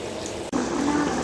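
About a cup of water poured into mutton karahi frying in a pan, giving a steady splash and loud sizzle that starts after a brief break and continues to the end.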